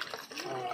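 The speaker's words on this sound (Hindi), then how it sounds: "कुहा का धो लेते हैं अब" Pumpkin pieces being washed in water in a kitchen, giving a brief, close sloshing and splashing sound.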